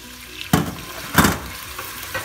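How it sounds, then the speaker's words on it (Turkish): Onions are tipped into hot melted oil in a pan while making Turkish spinach borani, giving two sharp sizzling bursts followed by a softer steady frying hiss and a faint later crackle. "Soğanlarımızı ilave ediyoruz."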